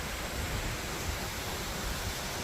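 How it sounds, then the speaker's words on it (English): Waterfall in a canyon along the trail to the top of Waterfall Canyon near Ogden, Utah, heard as a constant, even roar of rushing water with no breaks. "Waterfall."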